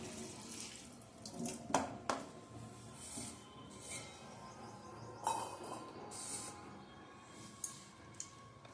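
Cut watermelon pieces are rinsed under a running kitchen tap, giving a steady close-up water rush with a few brief clinks and splashes scattered through.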